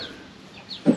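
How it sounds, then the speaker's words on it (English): Chickens clucking close by in a coop, a short soft burst of clucks ending in one louder cluck near the end. "But these chickens, they come in here."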